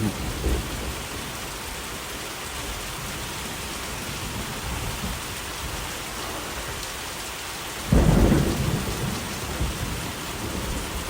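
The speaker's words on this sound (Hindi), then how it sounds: "बस अब ये बारिश बरसे और गोपाल की मेहनत भी रंग लाए" A cartoon story's thunderstorm pours steady, heavy rain throughout, and a sharp, loud thunderclap bursts in near the end before the downpour carries on.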